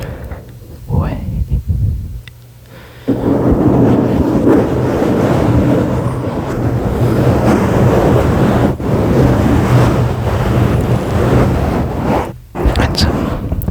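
Slow scratching on a microphone, continuous and close, with a broad rushing texture like waves washing in, steady through most of the stretch with a brief quiet dip near the end.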